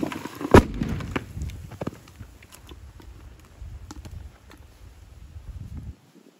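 Sodium metal dropped into a bucket of water explodes with a single sharp, loud bang, followed by a quick smaller crack and then a scattered fizzing, crackling patter that fades before the clip ends.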